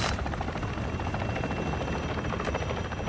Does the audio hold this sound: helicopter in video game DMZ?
yes